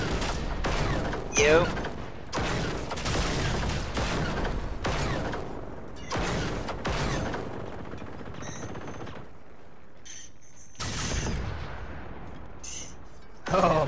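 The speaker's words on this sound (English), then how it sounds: "Shoot you, buddy boy. Hey man, that's one way to burn up ammo." Rapid bursts of automatic gunfire in a video game rattle loudly in clustered volleys, then thin out into scattered mechanical clicks and quieter pops before a final sharp burst, with a player briefly speaking.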